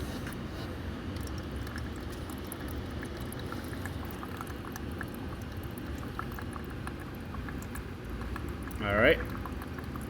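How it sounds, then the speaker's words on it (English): Oil-contaminated fuel drains steadily from a lawn mower that had tipped over, a continuous liquid trickle running close by throughout, with a person speaking briefly near the end. "I'm going to let this drain a good amount here."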